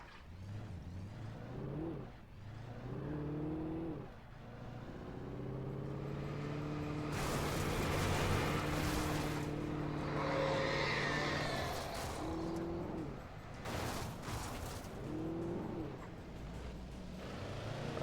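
Car engines in the game Alan Wake rev and whine up and down through shifting gears, with louder roaring bursts in the middle, somewhat muffled and at moderate volume.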